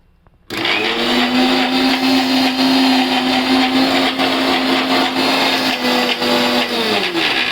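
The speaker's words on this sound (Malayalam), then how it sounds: "കുറച്ചുകൂടെ അരച്ചു കൊടുക്കും." A blender runs again on garlic and shallots with water for a smoother paste, a loud continuous motor whirr and grinding that starts abruptly and holds steady to the end.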